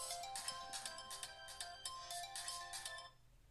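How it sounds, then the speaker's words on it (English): A phone ringtone chimes in a quick repeating electronic pattern of bright tones, steady and fairly close, for about three seconds before it cuts off. "Turn off the ringer."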